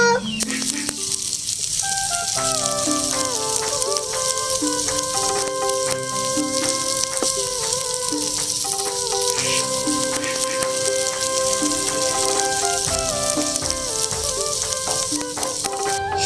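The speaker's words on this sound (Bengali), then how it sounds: "তেলটা গরম হয়ে গিয়েছে, এখন পাটিসাপটা ব্যাটার দিয়ে দিব।" Patishapta pitha batter sizzles steadily in a hot oiled pan, a continuous broadband hiss lasting throughout, partly overlaid by tonal background music.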